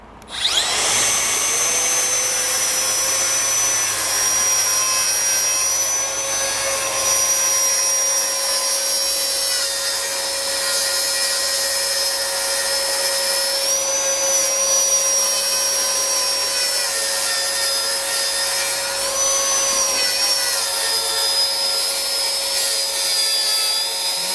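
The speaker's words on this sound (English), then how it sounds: "when I pull the trigger, this is going to start up the vac and hopefully it's going to suck away most of our dust" A Makita cordless circular saw cuts wood at top speed and full depth while connected to a 40-volt dust vacuum, a loud continuous whine with a steady high-pitched tone that wavers slightly as the blade bites.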